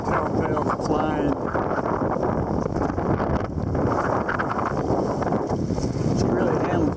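Steady roar of wind buffeting the microphone while sailing a Lapwing 15 dinghy on a lake in about 10 knots, rising and falling in gusts, with water rushing beneath and a voice talking over it.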